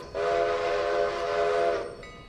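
A steam locomotive whistle in the Railroader train game sounds one long, loud, steady blast lasting under two seconds, then cuts off into quieter rolling rail noise, with no talk.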